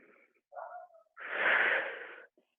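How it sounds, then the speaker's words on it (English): A deep inhale during a live stretching fitness class: a couple of short breathy sounds, then one long, strong, rushing breath of about a second, close and alone. "I want you to take a deep breath. Inhale"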